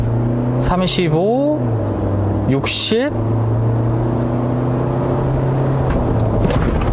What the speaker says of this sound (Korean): 지금 정차한 상태에서 가속 페달을 풀 가속을 해보면요